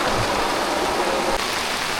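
Rain falling steadily in the Konkan countryside, a thick, even hiss of drops striking surfaces, close and continuous with no voices.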